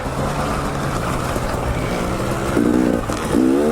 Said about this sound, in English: Gotta love shifting gears going up a hill around a turn.